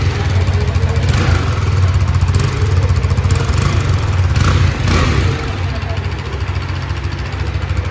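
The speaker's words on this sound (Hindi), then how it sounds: "तो अब फाइनली सुनते हैं इसका एग्जॉस्ट नोट।" A 2022 KTM RC 390 motorcycle idles with a loud, steady, close-up exhaust note, a continuous low throb with slight blips through the first five seconds, while someone talks over it.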